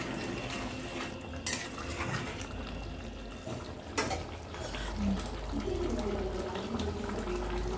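A spoon scrapes and clinks against a pan while jackfruit and shrimp curry is stirred at a home stove, with a few sharp metallic knocks, soft bubbling, and occasional louder clatters, close and fairly quiet.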